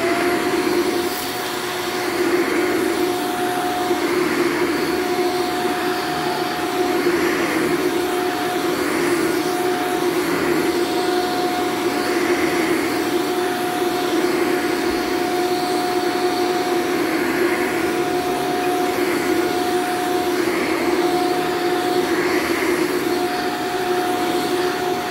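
Bissell Cleanview Allergen upright vacuum cleaner sweeping up a small pile of debris on the floor, a steady loud motor whine with a constant tone running the whole time, no talking.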